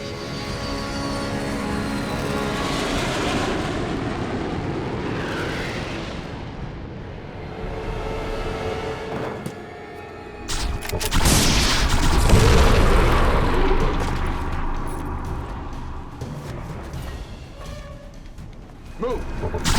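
Booming explosions and heavy blasts from a bombing run on warships in a sci-fi action movie with an alien invasion, rumbling continuously with a louder surge midway, mixed with voices and score.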